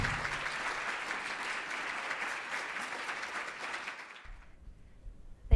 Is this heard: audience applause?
yes